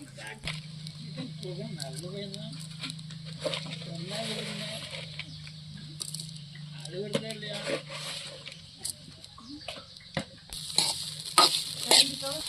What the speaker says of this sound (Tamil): இனிப்பு தேவையான அளவுக்கு போட்டு நல்லா கிளறணுங்க